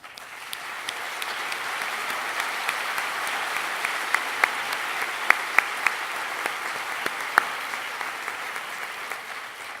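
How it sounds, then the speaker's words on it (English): Sustained applause from a large audience at the 2018 Cal State Long Beach university convocation, an even wash of clapping in a big hall with a few sharper claps standing out. "I'd like to ask them all to stand so we can give them a round of applause."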